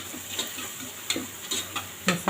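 Homemade kuzhambu and chicken spice powders sautéed in a pan for a soya recipe, a low steady sizzle broken by several regular scraping strokes of the spoon.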